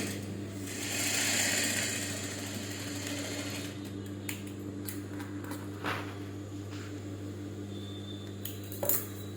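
A sewing machine stitching along a folded fabric edge for a basic tailoring hem, a steady mechanical whir with a constant low hum, punctuated by a few light clicks near the end, close and without speech.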